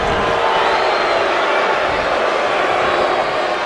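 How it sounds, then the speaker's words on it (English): Wrestling arena crowd reacting during a tag-team match, a dense, loud wash of massed voices and noise filling the whole stretch without pause. "And the crowd not liking the Steven clones today"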